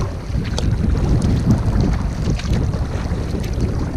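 Strong headwind buffeting while paddling a canoe up a creek in light rain, a loud continuous rumbling roar of wind across the microphone with faint splashes and knocks.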